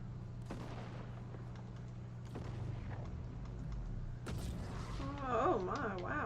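Fortnite shooting heard as a few sharp, moderately loud bursts over a low steady game hum. A voice talks briefly near the end.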